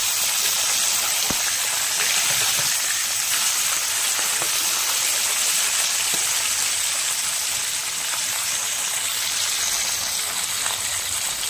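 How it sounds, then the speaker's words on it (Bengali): Parshe fish keep frying in mustard oil as they are flipped, a constant hissing sizzle with a few faint clicks of the turner against the pan. "মাছগুলোকে এপাশ ওপাশ উল্টে পাল্টে ভালো করে ভেজে নিব।"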